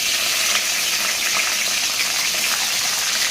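Green chillies frying in hot oil for a fenugreek leaf chutney, a steady close sizzle with faint crackles running throughout, loud and continuous with no talking.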